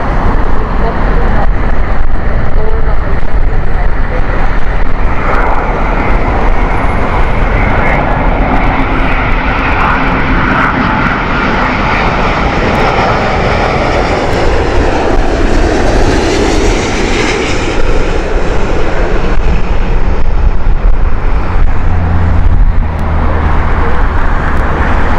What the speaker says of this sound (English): Just in time to watch this brand new Turkish Airbus A350.